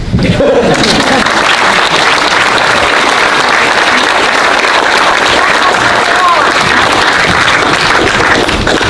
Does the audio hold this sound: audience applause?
yes